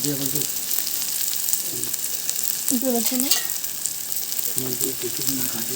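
Capsicum and onions frying in a pan give a steady sizzle throughout, with a few scraping stirs of a utensil breaking through it, near and moderately loud, with no talk.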